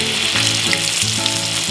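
Steak pan-fries in butter with a loud, dense, continuous sizzle close up, steady throughout with faint crackles and no voices.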